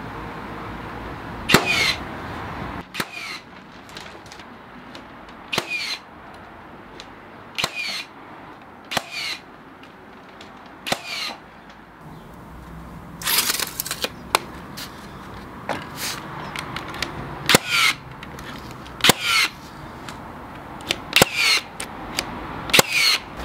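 Nails are hammered into flat roof timber rafters in sharp, separate strikes spaced a second or two apart, with a few quick clustered blows in the middle, outdoors and fairly close.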